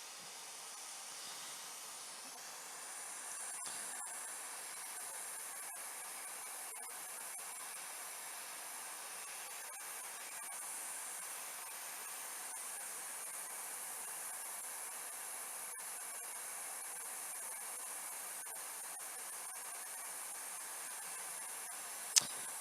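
A hot air tool blows across the circuit board of an Xbox One, making a steady, even hiss that runs unchanged from start to finish. It is faint, with one sharp click near the end.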